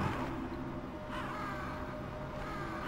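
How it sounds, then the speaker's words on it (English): Crows caw in the Metal Gear Solid video game near a blast furnace, harsh calls rising over a steady low ambient rumble that fills the background. "There are crows. Why are there crows?"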